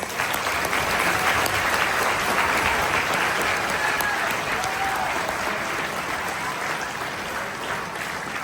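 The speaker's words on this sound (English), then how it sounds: "So a round of applause for these awesome kids." A school concert audience claps loudly and continuously, a dense wash of applause that holds strong and tapers only slightly over several seconds.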